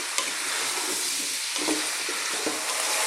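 Potatoes and onions sauté in a pan for a vegan potato and onion soup, giving a steady, close sizzle and crackle with a few soft stirring scrapes and no talking.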